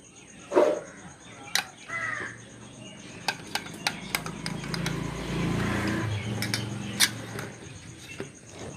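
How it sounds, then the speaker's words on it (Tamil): Birds call in a village in the early morning, with crow-like caws and sharp chirps that ring out clearly as scattered bursts over quiet household clatter. "இந்த மாதிரி காலையில் மட்டும்தான் குருவி சவுண்டெல்லாம் நம்ம கேட்க முடியும்"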